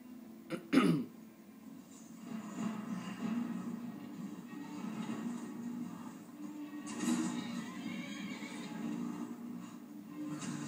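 A horse in the video game Skyrim lets out a sharp, loud whinny near the start after being shot, followed by a low, steady rumbling background with a brief swell later on.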